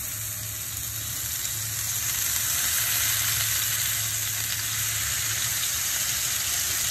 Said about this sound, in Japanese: こっからは肉が焼ける様子をお楽しみください